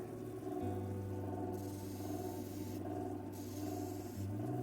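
Australian opal pressed against a 280 grit grinding wheel, a steady low wheel hum with continuous gritty rasping that swells and eases as the stone is worked.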